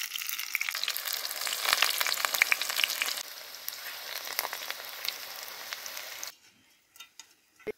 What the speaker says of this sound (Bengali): আর আমি এইভাবে করেই সবগুলো ধনেপাতার চপ ভেজে নেব।